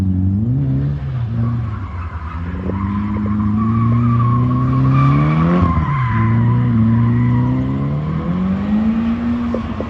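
A Toyota Cressida drifting at a Wagga district car club event, its engine revving hard and close while the tyres squeal in a long continuous skid, the pitch rising and falling with the throttle.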